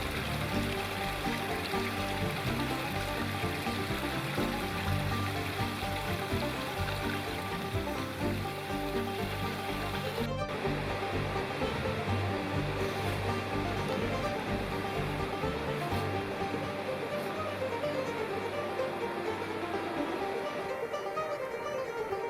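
White water rapids on the Big South Fork River rush in a steady, broad roar that stays constant throughout, near and full.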